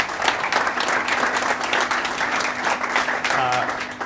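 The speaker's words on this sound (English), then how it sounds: "Can we get a quick round of applause for our speakers this morning?" An audience applauds speakers at a morning event, a dense, steady round of clapping from many hands filling the room for about four seconds, with a faint voice briefly audible near the end.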